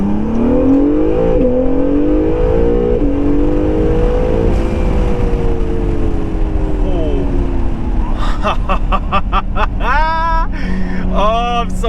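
A modified 2017 Acura NSX accelerates hard from inside the cabin, engine droning and rising through the gears with quick upshift drops, then a burst of rapid pops and revs near the end, loud throughout.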